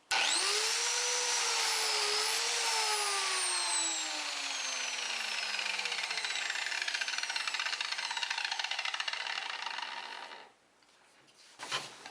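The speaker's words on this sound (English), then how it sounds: "And the tool I'm using to cut those slots is known as a biscuit joiner." A biscuit joiner starts with a loud whine, then spins down while it cuts slots into the edge of a wooden workpiece for number 20 biscuits. The motor sound fades out near the end and is followed by a few faint handling noises.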